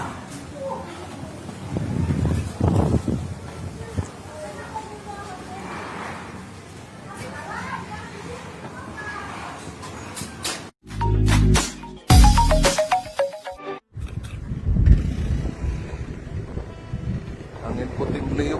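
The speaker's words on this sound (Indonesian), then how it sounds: "Angin puting beliung, dekat sekali jarak saya." Puting beliung tornado winds tear through Bengkong Laut, Batam, roaring and buffeting the microphone in heavy gusts with flying debris, while people talk and shout nearby throughout.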